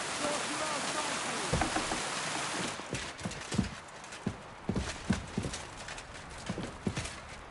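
Horse hooves clip-clop in steady steps over a wet surface in a video game, with rain hissing throughout; the hoofbeats grow more distinct and closer partway through.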